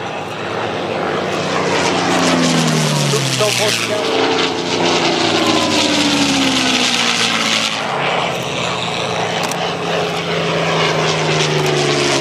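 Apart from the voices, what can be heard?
propeller airplanes flying at air show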